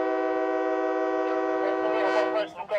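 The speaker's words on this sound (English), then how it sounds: "the train is ready to leave." A freight train loaded with Chinese exports at a dry port in Kazakhstan sounds a long, steady horn, loud and sustained throughout, with rumbling yard noise building near the end.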